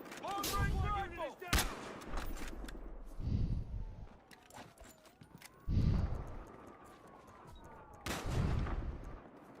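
Long-range sniper rifle fire in a multiplayer shooter, several loud sharp shots spaced apart with quieter gaps and faint talk between.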